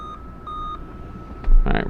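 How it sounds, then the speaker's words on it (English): A Dell Vostro 3550 laptop emits short POST error beeps during startup, a few faint tones followed by a brief louder burst of noise. "Alright, we're still getting 3 beeps."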